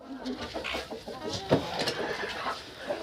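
Bantam chickens cluck softly and intermittently at close range, with light rustling and scattered clucks in a quiet farmyard setting.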